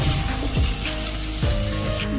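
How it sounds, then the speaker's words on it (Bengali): Hot water poured from a vessel into a pan of prawn curry cooked with young jackfruit, a steady close splashing gush with a couple of sloshing bursts, no talk. "ঝোলের জন্য আমি গরম জল ঢেলে দেব"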